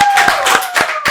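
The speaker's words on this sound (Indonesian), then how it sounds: "Tepuk tangan dulu." A handful of people clap at a school event, bursts of loud close claps in an uneven rhythm lasting about a second, with a faint tone running underneath.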